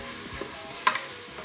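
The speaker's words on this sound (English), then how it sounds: "let's saute our onions" Onions sizzle softly in a little oil in an Instant Pot on its sauté setting, with a faint steady hiss broken by a sharp clink of a stirring utensil near the middle.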